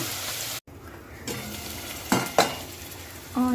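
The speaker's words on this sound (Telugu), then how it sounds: "ఆయిల్ హీట్ అవ్వగానే ఆనియన్స్ వేసుకొని బ్రౌన్ కలర్ వచ్చే వరకు వేయించుకోవాలి" Onions fry in hot oil in a pan for chicken curry, a steady sizzle broken by stirring and a few metallic scrapes and clinks of a utensil against the pan.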